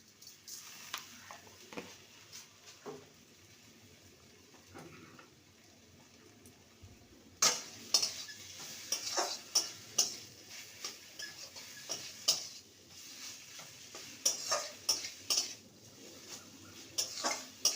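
Pumpkin leaf and fish curry is stirred in a pan: quiet, then a busy run of light ticking spoon taps and scrapes against the metal, close and irregular, with no speech.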